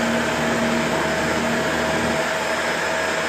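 Shark Rotator Powered Lift-Away vacuum cleaner sucking up hair, a loud, steady whine and roar of motor and airflow running continuously, close to the microphone, with no talking over it.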